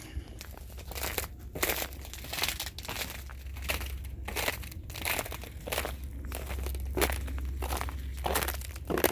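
Steady footsteps crunch and crackle over icy ground after a winter ice storm in Memphis, each step a sharp brittle crunch, with a low rumble of wind or handling noise beneath.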